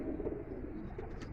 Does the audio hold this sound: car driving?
no